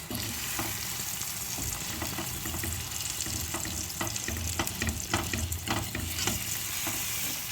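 Egg cooking with methi herbs in a frying pan, a dense continuous sizzle with rhythmic stirring scrapes and taps throughout, close up and with no talk.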